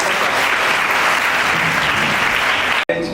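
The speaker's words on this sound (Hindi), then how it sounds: "कृपया जोरदार तालियों से" Dense, steady applause from an audience in an auditorium at a memorial discussion and award ceremony, loud and sustained for about three seconds before cutting off abruptly.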